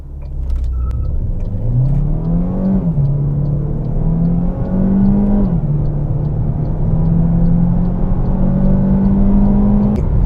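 A 2021 MG 6 engine revs up hard and loud from inside the cabin during an acceleration run, its pitch climbing, dipping briefly at each gear change, then rising again.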